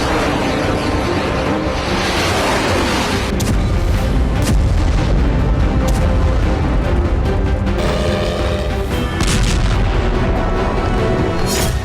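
A loud, sustained roar of an explosion and fire as sea drones strike an oil tanker in the Black Sea, with dense rumbling and several sharper bursts cracking through the continuous blast noise.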